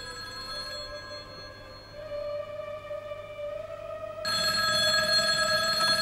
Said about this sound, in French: Le téléphone. Je pensais qu'on nous l'avait coupé.